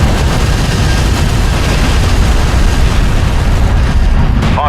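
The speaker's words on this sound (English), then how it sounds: "Enemy railgun firing on friendly." Loud, continuous roar of an enemy railgun firing in the sci-fi strategy game Homeworld: Deserts of Kharak, a dense sustained blast with no pauses, dominating everything else.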